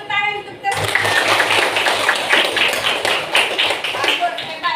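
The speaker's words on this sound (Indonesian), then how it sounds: "Tepuk tangan untuk terus." A classroom of children clap their hands together in a dense, lively burst of rapid claps that carries on for several seconds after a short sung or spoken lead-in.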